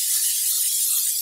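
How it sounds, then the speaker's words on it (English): A short, steady hiss of an olive oil aerosol spray onto a baking sheet, bright and close, lasting about a second. "I then go ahead and add another layer of the olive oil spray"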